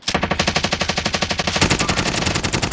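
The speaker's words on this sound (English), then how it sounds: "somebody to the right is shooting them now" A video game gun fires a sustained automatic burst, with about two dozen evenly spaced, loud shots in steady rhythm. The shots grow denser and harsher toward the end.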